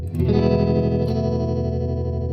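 Guitar played through a Mojo Hand FX Bayang modulation pedal set to its fastest speed with the depth turned up, giving a sustained, steady pulsing wobble, close and loud, with no talking.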